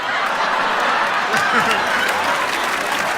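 Applause from a live podcast audience fills the whole stretch, a steady dense patter of many hands with a few faint chuckles mixed in, fairly loud and close.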